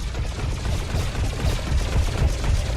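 Sustained gunfire in the shooter game Scraper: First Strike, a dense, continuous rattle of rapid shots without pauses, steady and loud throughout.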